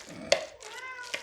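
A cat named Sheldon meows twice in a kitchen, short close calls about a second apart, with soft background noise and a voice talking nearby.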